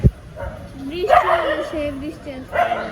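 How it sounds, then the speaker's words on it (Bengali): A dog barks and yips repeatedly in short, whining bursts outdoors as a storm approaches, fairly close and loud over a windy background. "এখানে একটা কুকুর অনেকক্ষণ ধরে ঘেউ ঘেউ করতেছে রে"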